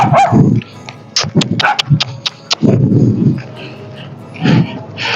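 Several short dog barks and yips ring out in quick bursts, mid-distance, in a rural provincial village, with people talking in between.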